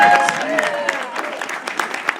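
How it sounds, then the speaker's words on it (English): An audience at the FisherPoets Gathering applauds after a performance, a moderate burst of clapping that thins out, with faint voices and tonal traces in the background. "Let's give a round of applause for them."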